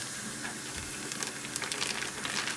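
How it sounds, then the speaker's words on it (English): Beef sizzles steadily in a hot pan while chili is cooked, a continuous bright hiss with faint crackles throughout. "You already start to hear that sizzle."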